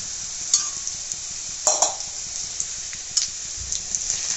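Chicken sizzles steadily in a hot pan, with occasional scraping and stirring clicks from a utensil.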